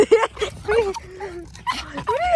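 A dog whimpers and yips in short, high-pitched bursts, fairly close, with brief pauses between cries.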